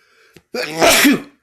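A single loud, close sneeze with a short sharp intake before the burst, then quiet.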